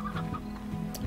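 A chicken clucks in the Slime Rancher video game, several quick clucks in a short burst, close and clear over a steady background tone.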